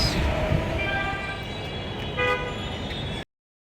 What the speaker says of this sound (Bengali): দূরে ট্রেন যাচ্ছে ট্রেনের আওয়াজ শোনা যাচ্ছে